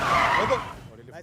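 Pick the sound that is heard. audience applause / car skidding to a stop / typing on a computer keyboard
car skidding to a stop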